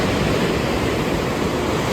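Ocean surf on a beach at Fuerteventura washes in a steady, loud, broadband roar, continuous and close with no distinct breaks between waves and no voices.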